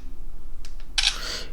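Camera shutter on an OPPO F21 Pro 5G phone, triggered with the volume button: a faint double tick followed by a single crisp, bright shutter snap over quiet room tone.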